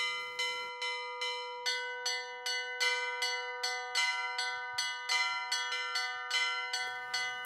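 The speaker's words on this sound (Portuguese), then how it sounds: "Na varanda da casa entre 2 sinos de bronze, Thelma toca." One of two bronze bells hanging on a house veranda is struck again and again in a steady rhythm. Each clear, ringing stroke lets the tone hang and overlap with the next. The sound is close and fairly loud, with no speech.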